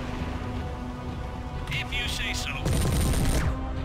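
Mech weapons firing in the game MechWarrior 3, a rapid crackling burst of gunfire over a steady low cockpit hum, with brief electronic tones before it.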